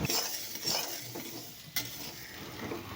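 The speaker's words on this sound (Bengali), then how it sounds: "মুগ ডালটা একটু লাল করে ভাজা করে নেব" Mung dal dry-fries in a pan, stirred with a utensil that scrapes and clinks against the metal in uneven strokes over a soft sizzle, with one sharp knock partway through.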